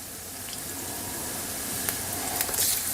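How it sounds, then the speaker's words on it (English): Beer-battered fish fillets hit hot frying oil and set off a steady, close sizzling hiss, with sharper crackles and pops rising toward the end. "just shake off the excess batter and drop the fillets right into that hot oil"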